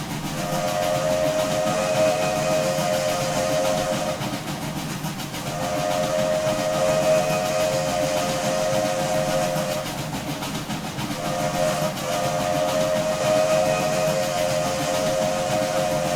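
Steam whistle of a 2-6-0 locomotive in the Trainz 2019 railway simulator, sounding in three long, steady, multi-toned blasts separated by short gaps, loud and close against a constant hiss and rumble, with no voices.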